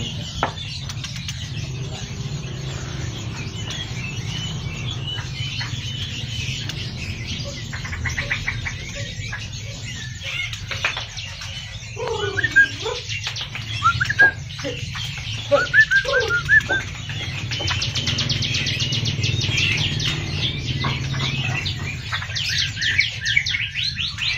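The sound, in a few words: pair of Bali starlings (Jalak Bali) calling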